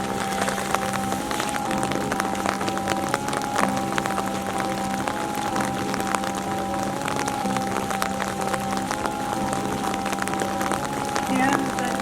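Steady rain falls outdoors, a constant patter of drops on surfaces lasting throughout, with a faint tonal hum in the background and no clear voices.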